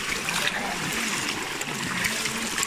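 Water splashes and trickles steadily in a small river where people are wading, a continuous close splashing wash with no talk over it.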